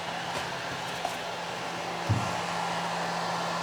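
A heat gun blows steadily on material for a custom Chevelle center console, a constant airy whir with a faint low hum running throughout and one brief bump partway through.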